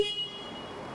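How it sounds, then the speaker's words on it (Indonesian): Horn of a Suzuki SM Sport V16 motorcycle, a single short, bright beep up close that cuts off quickly, with no voices. "Nah, kayak gitu teman-teman bunyi klaksonnya."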